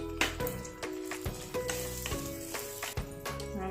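Chopped onion and finely cut tomato sizzle and fry in a pan for a roasted-spice fish curry, a steady close crackle with several stirring scrapes and clinks throughout.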